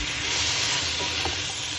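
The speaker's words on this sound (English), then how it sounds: "that will just evaporate out, and then it will start frying again" Chicken soup ingredients fry in a pan with a soft, steady sizzle and hiss as a splash of water evaporates, quiet and continuous with no talk.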